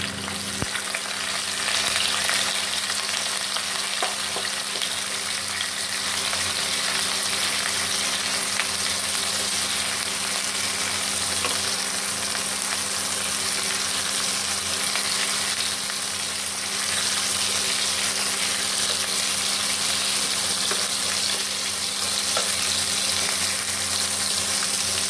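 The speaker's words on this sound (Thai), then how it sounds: "พอน้ำมันร้อนเรานำกุ้งลงไป" Steady, loud sizzling of fresh shrimp frying in hot oil in a pan, a continuous crackle with no talking.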